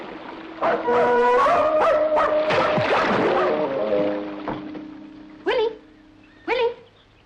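A dog yelps and whimpers up close under a voice, then two short, sharp barks ring out alone near the end.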